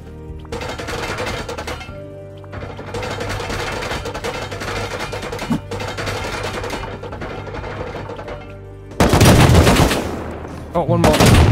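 Suppressing automatic AK fire in Rust, long rattling bursts close by with brief gaps, followed by a louder, harsher blast of shots near the end.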